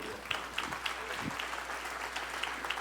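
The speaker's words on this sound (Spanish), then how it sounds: "Le regalamos un aplauso al Señor." Church congregation at a Sunday service clapping together, a soft, fairly distant wash of applause with scattered louder claps, steady for a few seconds without clear talk.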